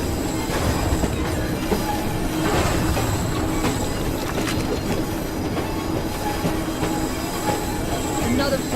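A train in the video game Assassin's Creed Syndicate rolls along loudly with steady rumbling, clattering wheels and intermittent high metallic squeals throughout.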